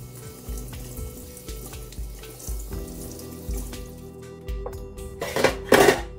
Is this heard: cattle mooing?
no